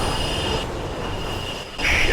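A train braking to a stop inside a tunnel in the video game Mirror's Edge, with loud metallic wheel squeal and rumbling rail noise, a brief dip midway, then a sharp high screech rising at the end.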